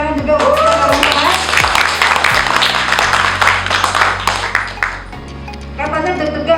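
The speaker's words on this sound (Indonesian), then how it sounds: "Tepuk tangan juga untuk teman-teman." Meeting attendees break into applause, a bright patter of clapping that swells in the middle while voices and ringing tones carry on around it.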